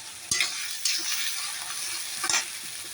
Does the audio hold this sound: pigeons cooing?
no